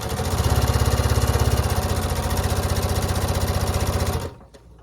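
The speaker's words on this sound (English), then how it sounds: "I'm over here on my Janome 6700 piece sewing machine" A Janome 6700 sewing machine runs loud and fast in a steady rhythmic whir as it stitches along a marked line on quilt fabric, then stops abruptly near the end.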